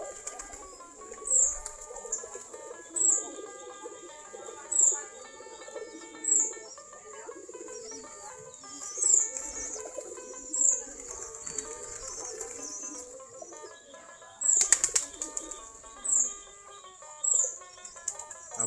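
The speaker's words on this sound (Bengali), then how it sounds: "আমাদের কবুতরগুলা এই যে খোপের কাছে সবগুলা" Native-breed pigeons at their coop after feeding make repeated bursts of wing flapping at a steady interval of about every second and a half. Soft cooing and chirps continue throughout.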